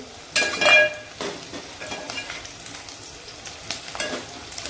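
Onions sauté in a hot pan for soybean pulao, with loud bursts of sizzling as they are stirred and a few scraping, clinking touches of a spatula against the pan between quieter stretches of frying.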